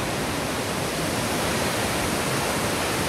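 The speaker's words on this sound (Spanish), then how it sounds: "Y esto es la cascada Velo de Novias, amigos." Velo de Novias waterfall at El Chiflón, Chiapas, roars as a loud, steady broadband rush of falling water, unbroken for the whole stretch with no voices over it.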